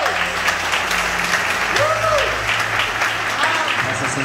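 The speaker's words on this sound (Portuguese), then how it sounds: "Aplaude o Senhor pela revelação." A church congregation applauds in praise, dense clapping that runs steadily under a preacher's continuing voice and a sustained musical drone.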